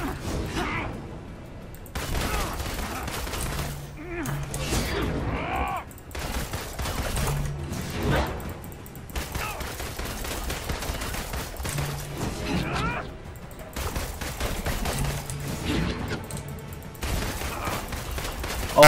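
Marvel's Avengers video game combat keeps up repeated gunfire with mechanical clanks and crashes, rhythmic and fairly loud across the whole stretch with brief lulls between volleys.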